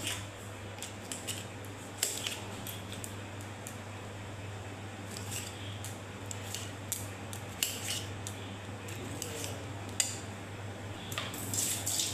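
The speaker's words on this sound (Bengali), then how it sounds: "টমেটোটা কেটে নিচ্ছি।" A knife cuts a tomato in a home kitchen with soft, irregular ticks and slicing strokes. A steady low hum runs underneath throughout.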